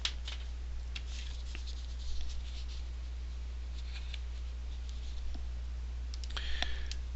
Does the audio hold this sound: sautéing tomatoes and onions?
no